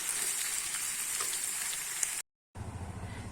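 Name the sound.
stirring banana flower and prawn curry with ghee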